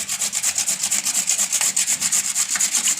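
Rhythmic scraping of a carrot being grated, quick back-and-forth strokes repeating steadily and close by, with no talking.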